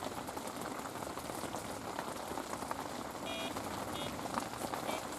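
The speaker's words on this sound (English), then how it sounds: "look at the amount of hail that's coming in to the front of my brolly" Hail pelts the fabric of a fishing brolly at a lakeside carp-fishing swim, a dense, steady patter of tiny impacts drumming close overhead, with faint electronic beeps from bite alarms mixed in.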